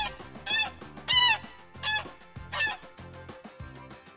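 Geese honk in a farmyard market scene, a series of about six loud, nasal honks in an uneven rhythm, each short and brassy, with no voices over them.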